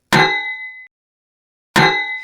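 A hammer tapping on metal as a man approaches: two sharp, loud metallic clangs about one and a half seconds apart, each ringing out with a bright, bell-like tone against silence.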